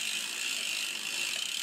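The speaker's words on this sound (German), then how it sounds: "drehe noch mal die Kette" A bicycle freewheel ratchets as the chain is turned backward during cleaning with MUC-OFF cleaner, a quick, even, close-up clicking that runs steadily with no talking.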